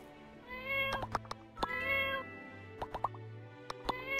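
Several short meows from a cat in the My Time at Portia video game, repeated in uneven bursts over steady background game music, fairly close and clear.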